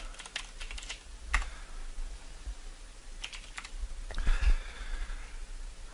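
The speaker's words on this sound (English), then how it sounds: "I'm typing in my information to pull this up." Typing on a computer keyboard in bursts of quick clicking keystrokes separated by short pauses, close and fairly quiet, with a faint sniff in between.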